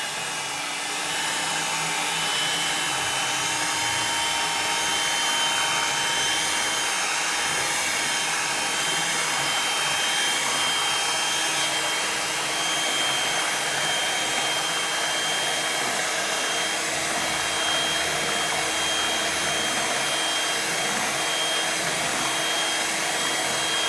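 Steady electric mixer whir beating cake batter of hot melted milk and butter, a constant even drone running without a break throughout, no voices.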